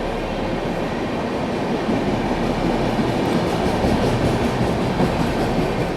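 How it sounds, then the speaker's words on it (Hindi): Gorakhpur LTT Superfast Express rumbles past at speed, a loud, steady, close roar of rolling wheels and wagons with faint rhythmic clatter, without any talking. "Gorakhpur LTD super fast express."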